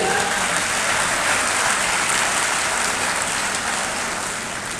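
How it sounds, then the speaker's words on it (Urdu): Audience at the Bahawalpur literary and cultural festival clapping steadily, a dense continuous patter of many hands that holds level and then begins to thin and fade toward the end, with no talking over it. "یس، تالی بجائیے۔"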